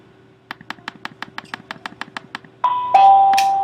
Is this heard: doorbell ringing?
yes